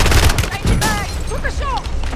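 Video game gunfire rings out in rapid bursts of sharp shots, loud and close, with electronic tones and effects layered in, and no speech.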